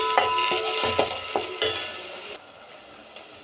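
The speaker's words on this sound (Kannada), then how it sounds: "5 ನಿಮಿಷ ಪೇಸ್ಟನ್ನು ಚೆನ್ನಾಗಿ ತಿರುಗಿಸ್ಬೇಕು" Masala paste being stirred in a hot pan: a spoon scrapes and clinks against the pan in several quick strokes over a sizzling fry, then the stirring stops and a quieter sizzle remains.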